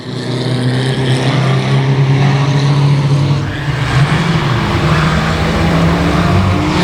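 A dirt track race car at Boothill Speedway running with a sputtering, power-losing engine drones loudly and continuously amid other cars' engine roar, with a loud, distorted race-day ambience throughout.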